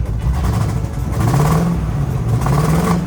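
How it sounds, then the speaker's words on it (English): A 2003 Land Rover Discovery 2 misfiring on cylinders 5 and 7 rumbles and revs loudly while driving up a road, its uneven engine note rising and wavering closely with a rough, stumbling pulse and no talking. "there was a misfire on cylinder 5 and 7 and a random misfire that was happening around the engine"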